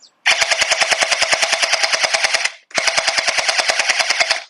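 A gel ball blaster fed from a drum magazine fires two long, rapid full-auto bursts of evenly spaced sharp shots, loud and close, with a brief pause between bursts and no talking.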